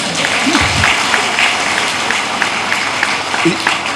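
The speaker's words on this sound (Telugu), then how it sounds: "చప్పట్లు కొద్దిగా తక్కువ అయింది" Workshop audience applause forms a steady, dense wash of clapping from a crowd, moderately loud, with a few faint voice sounds mixed in.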